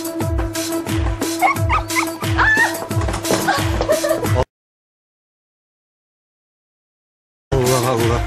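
A Border Collie barks and yelps repeatedly in a loud, busy burst on a Turkish TV studio set, with high yips and whimpers, then a sudden silence before the sound resumes briefly.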